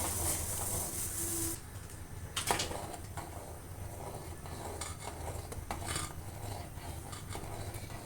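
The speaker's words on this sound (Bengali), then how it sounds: "এখানে আমি সম্পূর্ণ স্যুপগুলো ঢেলে দিব পাউডারটা এবং নাড়তে থাকবো" Packet soup powder is stirred into boiling water in a pot for corn chicken soup, with scraping and rubbing against the pot over a steady low rumble and a sharper knock midway, with no talking.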